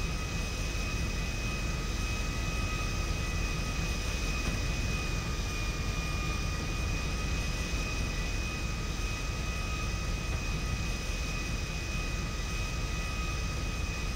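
A steady, unbroken airplane engine drone inside a roleplay video game, a flat broadband roar holding at an even level throughout with no talk over it.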